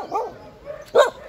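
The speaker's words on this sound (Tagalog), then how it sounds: "Yan ang aso nila" A dog barks twice in a hilly provincial village, two short sharp barks close by, the second louder, with faint outdoor background between them.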